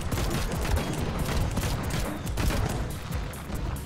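A battle mech in the building game Trailmakers fires its guns in a dense, continuous barrage of rapid gunfire and booms. The shots are loud and sustained, with a slight mechanical rattle.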